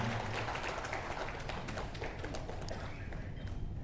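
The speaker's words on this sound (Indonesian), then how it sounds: "Tepuk tangan buat Kang Pipin Sopyan." Applause for an official at a political party gathering, a fairly faint, busy patter of clapping hands over a low steady hum, even in level throughout.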